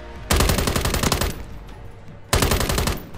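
Rapid automatic gunfire from the video game Call of Duty Warzone comes in two loud, close bursts, the first about a second long and the second shorter after a brief lull.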